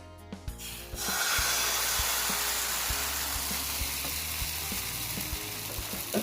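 Egg batter is ladled into a hot pan and starts frying. A loud, steady sizzle bursts in after a second of quiet and continues with a few faint clinks of the pan. No one speaks.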